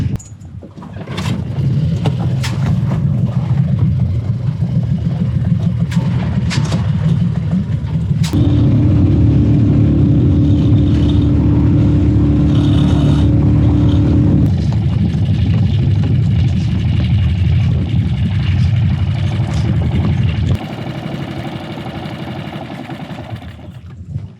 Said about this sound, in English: Now we're just gonna turn on the motor and head into the harbor.